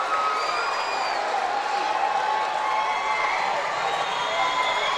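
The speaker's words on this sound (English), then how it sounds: "Now listen to this Fleming County crowd." Crowd cheering and roaring at a boys' high school regional basketball tournament game, a steady, dense wall of noise with whoops and applause sustained throughout.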